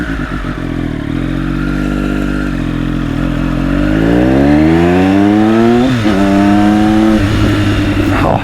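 Engine of a 2020 Triumph Daytona 765 Moto2 sport motorcycle revving hard and close, pitch climbing steadily through the gears with a brief shift dip, loud and continuous with no talk.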